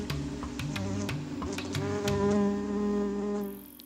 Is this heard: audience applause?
no